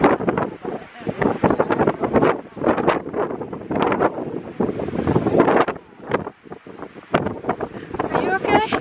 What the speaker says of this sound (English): So there's a bit of a cold wind.